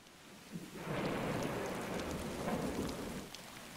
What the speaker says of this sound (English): As the storm intensifies, thunder and lightning drown out the relentless beating rain.